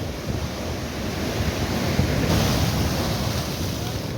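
Surf rolls in at Cherai beach in Kerala during a high tide that covers the sand: a broad, continuous roar of waves, with wind buffeting the microphone.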